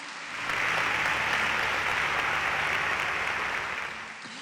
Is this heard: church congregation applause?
yes